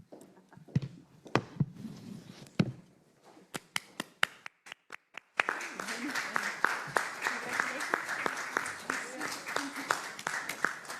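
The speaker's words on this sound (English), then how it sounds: "they deserve a very special applause for making that event a success. So please join me in." An event audience applauds at closing remarks, beginning with a few scattered claps that swell into fuller, sustained applause for several seconds.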